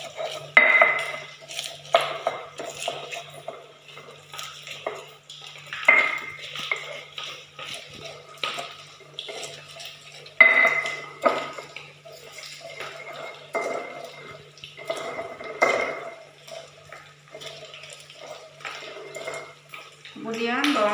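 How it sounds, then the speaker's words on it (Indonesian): Green chilies and shallots are ground together for green sambal lado, a series of hard, rhythmic scraping and knocking strokes in short bursts with quiet pauses between them. "Dalam menggiling cabai dan bawang upayakan berbarengan"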